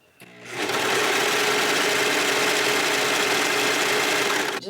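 A sewing machine stitches stretchy dress fabric, starting up and then running at a steady, even hum that lasts several seconds with no voices.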